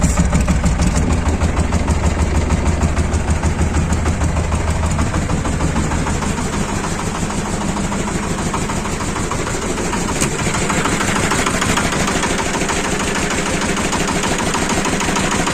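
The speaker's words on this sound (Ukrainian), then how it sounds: "Зараз покажу, як додається в мене холості оберти." Shifeng 240 mini tractor engine idling steadily up close, a loud continuous rhythmic chugging with a knocking pulse, alone without speech.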